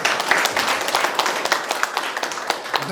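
An audience at a lecture academy gives a round of applause, a dense, steady patter of many hands clapping at moderate volume for a few seconds.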